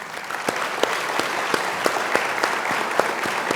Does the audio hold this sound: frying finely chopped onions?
no